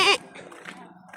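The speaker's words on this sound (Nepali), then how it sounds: "यस्तो पनि देख्न पाइन्छ बाख्रा साख्रा देख्न पाइन्छ" Goats seen near the Tinau river in Nepal, with a short, loud bleat at the very start followed by a low murmur of background voices and ambient noise.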